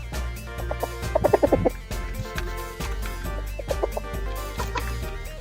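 Fighting rooster clucking in short repeated bursts close by, several rapid clucks clustered together with quieter pauses between them.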